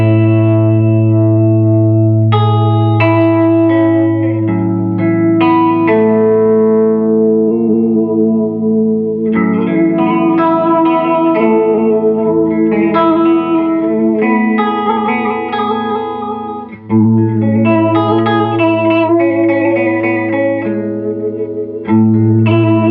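Electric guitar through an Electronic Audio Experiments Prismatic Wall pedal in random mode, sustained chords with shimmering, warbling harmonic layers that shift unpredictably, loud and continuous without speech.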